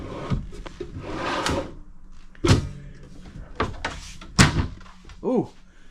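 A drawer in a Forest River RV closes with a hard thud instead of a soft-close glide, one of several sharp knocks and slides between bursts of nearby talk.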